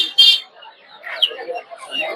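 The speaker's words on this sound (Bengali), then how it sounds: "এদিকে দেখতে পাচ্ছেন কোয়েল পাখি" Small quail birds at a poultry market in Puthia give off brief high chirps, with a sharp burst near the start and scattered softer calls after it, over a murmur of nearby market voices.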